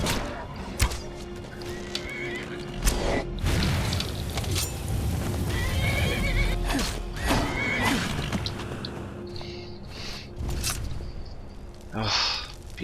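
A horse in the Skyrim video game neighs and whinnies repeatedly amid clip-clopping hooves, booms and other game effects, moderately loud and continuous.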